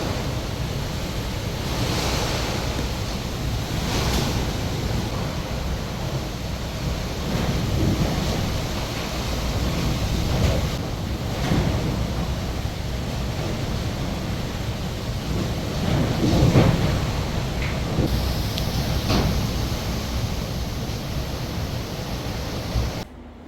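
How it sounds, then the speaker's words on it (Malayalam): Strong wind storm on a home terrace: a steady, loud roar of rushing wind with gusty swells and low rumbling buffeting against the microphone, continuous throughout without any talk. "കഴിഞ്ഞ ദിവസത്തെ കാറ്റിൻ്റെ ഒരു വീഡിയോ ഞാൻ കാണിച്ചു തരാം"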